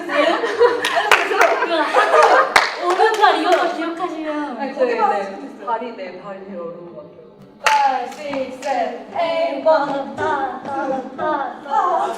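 Hands clap in time during a K-pop dance lesson for the WooWoo routine, sharp claps landing among steady counting and laughter, with several people talking and chuckling throughout.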